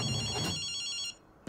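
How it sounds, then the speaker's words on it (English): A phone ringing in Ghostwire Tokyo, a bright electronic ringtone trilling for about a second before cutting off, alone and close. "Getting a phone call."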